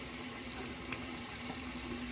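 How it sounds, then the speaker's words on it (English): A tap runs steadily in the background, a faint, even hiss of flowing water with no pauses. "Sorry for the running water."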